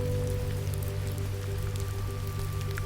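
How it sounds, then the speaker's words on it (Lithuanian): Steady rain falls outside a hotel room window, a soft, even patter of drops heard from indoors over a low constant hum, with no voices. "Lietus už Lango"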